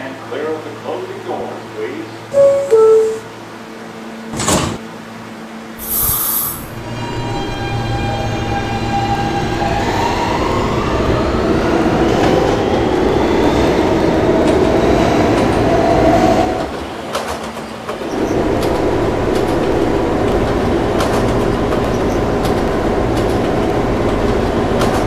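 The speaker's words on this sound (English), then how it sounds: "This is a Union Turnpike bound E-train." Kawasaki R160 New York subway E train running between stations toward Union Turnpike: a rising electric motor whine and rolling rumble with clicking wheels, heard from inside the car alongside automated announcements.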